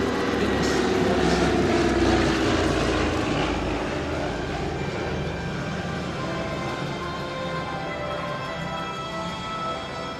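A 1942 Douglas C-47 Skytrain, a D-Day veteran transport, taxis in at an airshow with a steady, loud droning roar from its radial propeller engines, easing slightly in loudness and continuing throughout with no talk.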